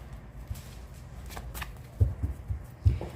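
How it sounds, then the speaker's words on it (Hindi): Tarot cards being shuffled, with soft riffling and a few sharper card slaps near the end, close and fairly quiet, with no talk over them. "लास्ट शफल रहेगा प्रभु, चाहे कितने भी कार्ड्स आए, लास्ट शफल रहेगा।"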